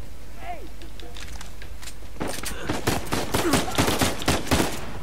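Rapid bursts of gunfire from an enemy firefight in the video game Uncharted 4 crackle in the middle distance, growing denser toward the end, while someone talks in Spanish over the action.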